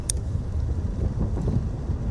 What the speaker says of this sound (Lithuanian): Gal yra labai stiprus priešpriešinis vėjas?